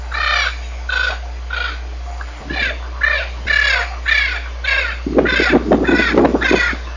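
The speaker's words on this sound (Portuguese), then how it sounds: "Esta vocalização é justamente desse macho de ararinha" A male Spix's macaw calls in a 1992 field recording from the Bahia Caatinga, giving a series of about ten harsh, raspy squawks at a steady pace, louder and denser toward the end, over a constant low hum.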